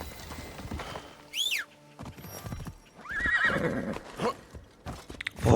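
A horse in the video game Assassin's Creed Shadows neighs loudly and clearly, with hoof clip-clops and other game sounds around it and no talking.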